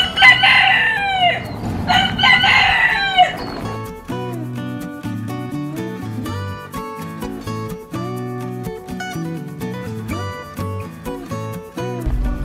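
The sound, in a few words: rooster crowing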